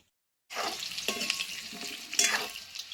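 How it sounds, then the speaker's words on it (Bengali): Potatoes fry in hot oil in a home kitchen pan, with a steady bright sizzle after a short silent start and occasional louder crackles and stirring scrapes, close and continuous. "এবার আমি আলুগুলো ভেজে নেব।"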